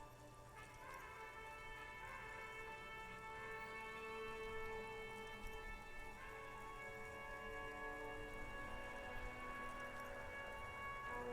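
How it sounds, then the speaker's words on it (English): Steady rain falls over the city of Revachol in the Disco Elysium video game, a continuous soft patter under sustained musical tones, with no talking. "All around you, rain falls on the great city of Revachol. Rain drips from the eaves and floods the gutters"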